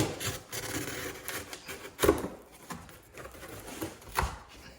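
Rough scraping and cutting sounds with sharp crunchy strokes at irregular intervals, close and fairly quiet, as a blade cuts down a cardboard pigeon shipping box.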